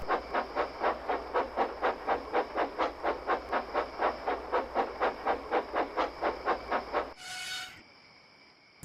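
Steam locomotive puffing in a Trainz train simulator, a steady, even chuff rhythm of about twenty beats that stops abruptly, followed by a short hiss of released steam.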